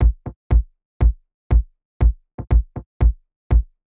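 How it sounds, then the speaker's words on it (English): Deep, punchy kick drum and tom samples from an electronica and downtempo beat, striking in a steady pattern of heavy low thumps with lighter hits in between, dry and alone. "So we have this very deep kick and tom going on."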